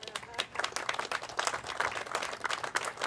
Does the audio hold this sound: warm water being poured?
no